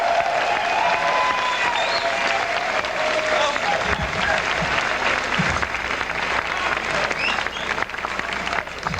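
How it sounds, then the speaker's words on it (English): Loud, sustained applause with cheering from a large outdoor crowd at Wigstock, a drag festival, filling the whole span with dense clapping and whoops, with some voices mixed in. "Let's give Lady Bunny a big round of applause for Wigstock."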